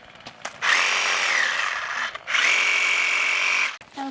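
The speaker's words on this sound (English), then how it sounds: "These sawzalls are awesome because they're way safer than a chainsaw, so Cruz can use them." A Sawzall reciprocating saw cuts through manzanita trees in two long, loud, buzzing bursts close by, separated by a short pause.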